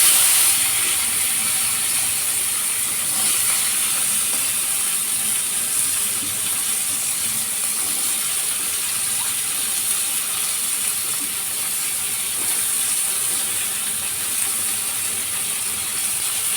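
Sliced bitter gourd frying in a wok in a home kitchen gives off a steady, continuous sizzling hiss that holds at an even level throughout, with no voices.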